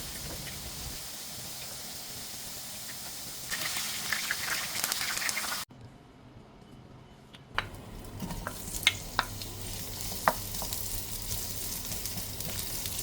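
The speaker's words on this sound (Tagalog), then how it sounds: "pirituhin na rin natin ang patatas" Potatoes sizzle and spit in a hot pan, a steady frying hiss broken by a short quieter gap, then crackling resumes with occasional sharp pops and stirring.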